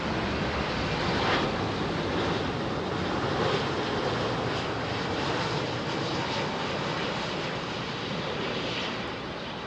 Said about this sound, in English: This can make a noise, the old Avianca Dreamliner.